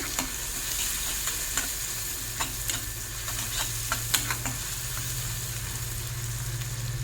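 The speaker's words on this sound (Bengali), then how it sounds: "পেঁয়াজটাকে খুব ভালোভাবে ভেজে নেবো পেঁয়াজটা কিন্তু হাই ফ্লেমেই ভাজতে হবে" Onions sizzle steadily in hot oil over high flame while a utensil scrapes and clicks against the pan in irregular stirring strokes; a low hum joins partway through.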